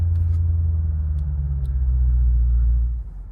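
Deep, steady rumble of the twin-turbo V8 in a 2021 BMW M8 Gran Coupe idling just after startup, heard from inside the cabin, low and constant before easing off at the end.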